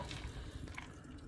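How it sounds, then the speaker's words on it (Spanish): A Jägermeister drink mixture is strained into a tall glass over ice, giving a steady close trickle and splash of liquid with no talk. "Vamos a filtrar la mezcla."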